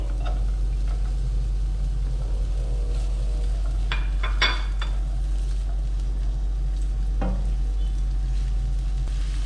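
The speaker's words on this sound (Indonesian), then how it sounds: "tumis bawang bombay hingga setengah matang ya" Steady sizzling hiss of onions frying in hot oil, with a few clinks and stirring scrapes over a low background hum.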